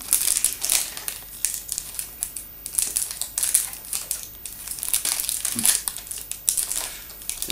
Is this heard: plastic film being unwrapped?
yes